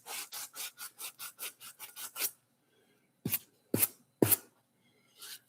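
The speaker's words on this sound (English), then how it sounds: "I am going to sand it to see if it suddenly goes pink." Sanding Evercoat 4-to-1 automotive primer by hand: a quick run of about ten even rasping strokes, then a pause and four louder, separate scrubs, close and dry, with no talking.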